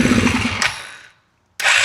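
Engine of a Polaris RZR left sitting for five years, cranking and firing with a rough, rattling run close by, cutting out into a second of silence before abruptly roaring back to life.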